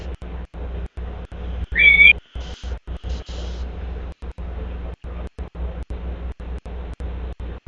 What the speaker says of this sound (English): I don't know what the whistling's for.